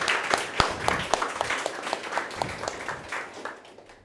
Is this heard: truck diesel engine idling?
no